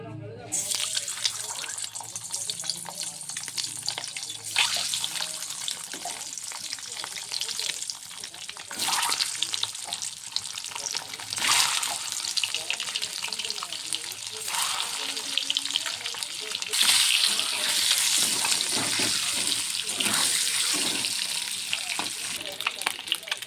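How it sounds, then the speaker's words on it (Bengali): Eggs fry in a karahi for a simple egg curry, producing a loud, continuous sizzle close by with intermittent scraping and stirring clatter that swells toward the end. "ভালো করে লাল লাল করে ভাজা হয়ে গেছে"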